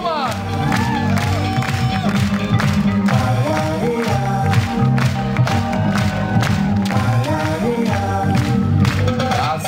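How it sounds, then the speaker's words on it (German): A crowd at a beach volleyball center court during a German championship awards ceremony applauds and cheers loudly and continuously, with shouts and whoops over dense, sustained clapping. "Also begrüßt sein Partner mit einem großen Applaus aus dem Center Court"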